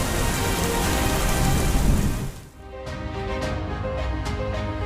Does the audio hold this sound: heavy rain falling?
yes